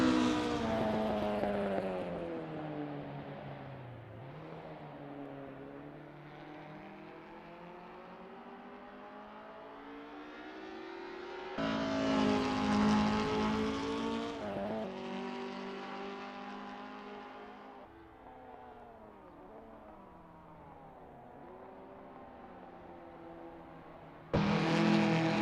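Ford Escort 1600 race cars at Oulton Park in Assetto Corsa, engines droning and revving steadily throughout, with louder surges of acceleration midway and a fresh burst at the end.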